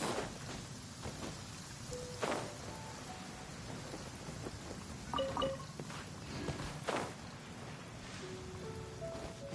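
Steady game rain falls across a Genshin Impact landscape, a dense even patter with soft rumbles of thunder and a few faint tonal chimes, moderately loud and without speech.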